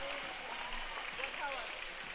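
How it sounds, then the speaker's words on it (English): Steady crowd applause and cheering fill City National Arena at a Vegas Jesters home hockey game as the starting lineup is introduced, a dense, sustained wash of clapping with faint whistles and voices mixed in. "Very nice ovation from a really good crowd here at City National Arena tonight."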